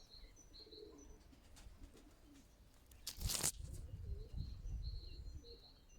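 Pigeons coo softly near their nest, with low, repeated coos and a few chirps, plus a short burst of fluttering wings in the middle. The sound is quiet and somewhat distant.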